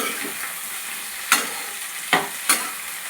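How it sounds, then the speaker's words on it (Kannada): Onion, tomato and coconut fry for a chicken curry, giving a steady sizzle broken by three sharp spatula scrapes against the pan. "ಸೊ ಅದಕ್ಕೆ ನಾವಿವಾಗ ಆನಿಯನ್, ಟೊಮ್ಯಾಟೊ ಹಾಗೂ ಕೋಕೋನಟ್ ಇವುಗಳನ್ನೆಲ್ಲ ಅದರಲ್ಲಿ ಫ್ರೈ ಮಾಡ್ಕೊಳ್ಳೋಣ"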